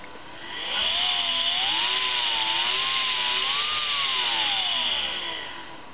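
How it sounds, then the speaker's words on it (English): A small electric motor driven through a homemade speed-control circuit whines steadily and close, its pitch gently rising and falling as the speed shifts, over a constant hiss, with no talk. "You can change the speed of that motor."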